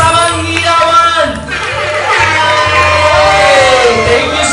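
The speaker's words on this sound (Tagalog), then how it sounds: "Palakpak na may kasamang hiyawan." Cheering and shouting from a birthday party crowd for the celebrant, a loud, continuous roar of voices and whoops that stays steady throughout, with any clapping buried beneath it.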